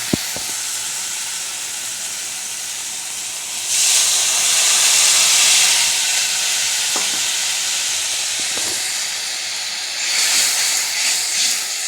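Water splashes into hot oil and spice paste in a pan while cooking a Bengali fish curry, giving a loud, steady hissing sizzle that swells sharply partway through and stays strong for several seconds with no talk.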